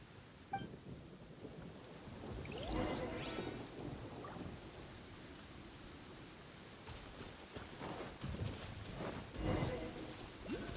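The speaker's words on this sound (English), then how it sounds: "Uh-oh! Lightning storm!" A Genshin Impact lightning storm: steady rain hisses throughout while two loud thunder cracks roll through, one early and one near the end.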